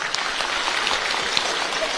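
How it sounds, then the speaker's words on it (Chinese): An audience at a religious talk event in New Zealand applauding, a dense steady patter of clapping from many hands at moderate distance for the whole stretch. "鼓掌。"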